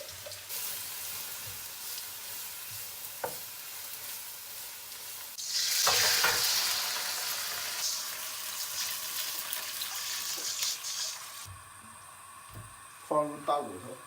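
Green onion, ginger, homemade garlic and chili frying in a pan with caramelized sugar, a steady sizzle swelling loudly midway, then a softer hiss with clinks of a utensil near the end, and some talk in the background.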